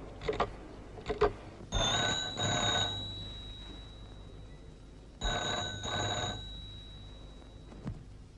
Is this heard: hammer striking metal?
no